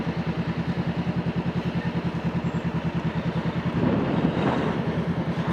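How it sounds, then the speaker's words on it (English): Gusty wind buffeting the microphone while riding a Honda CBR 500R motorcycle, a steady roaring rumble with a pulsing engine throb underneath, swelling louder near the end. "It's a little windy."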